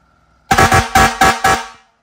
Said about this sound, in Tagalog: Fire air horn.